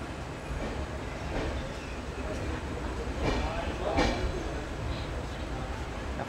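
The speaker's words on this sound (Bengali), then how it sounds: "প্রায় 22 মিনিট দেরিতে আমাদের ট্রেনের প্রস্থান হচ্ছে বর্ধমান জংশনের 5 নম্বর প্ল্যাটফর্ম থেকে।" The 12378 Padatik Express pulls out of platform 5 at Barddhaman Junction before dawn, running 22 minutes late, with a steady, dense rumble of wheels and carriages and faint voices mixed in.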